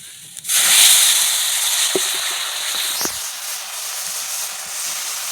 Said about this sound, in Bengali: আমি এর মধ্যে ঢেলে দেবো জল